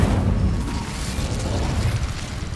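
Incendio fire spell cast in Hogwarts Legacy bursts as a dense, rumbling whoosh of flame, loud and sustained throughout with a heavy low-end roll.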